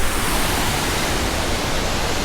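A waterfall pours in a steady broadband roar along a mountain trail near the Beartooth Highway, constant and close with no voices.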